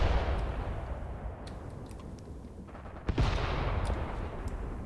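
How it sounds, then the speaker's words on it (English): Howitzer artillery shelling in the Graviteam Tactics war game, a rumbling bed of distant booms with scattered sharp cracks and one louder near blast midway. "the howitzers are still shelling them"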